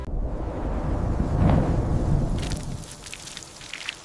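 Rain falls steadily in an open Sahara desert landscape, a broad even hiss with a low rumbling undertone and a few brighter patters of drops near the end, no voices.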